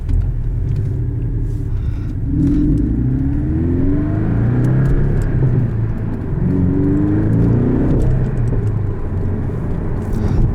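A 2017 Porsche 718 Boxster S with manual transmission accelerates, its engine rumbling loud and close from inside the cabin with rising revs across gear changes.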